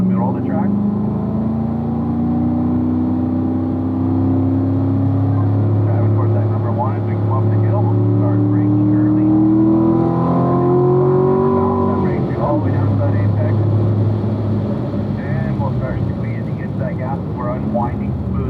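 Race car engine on a track at a driving school, steady sustained drone with shifting pitch as the throttle is fed through corners and up a hill, loud and continuous under an instructor's voice.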